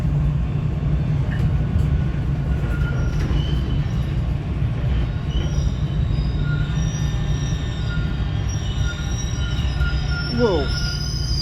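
Toronto TTC subway train arriving at Warden Station, a loud continuous rumble with high-pitched wheel squeals rising and falling over it, and a brief sweeping screech near the end.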